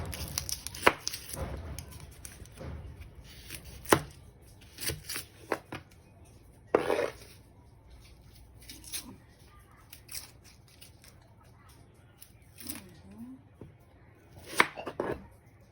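A knife chops onion on a board during fruit salad preparation, producing a string of irregular, crisp close-up chops with short pauses between them.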